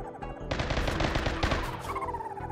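Rapid bursts of gunfire as colonists shoot at sentient plant creatures in the Rimworld colony game, a dense crackling volley with many overlapping shots running steadily for the whole stretch with no talk.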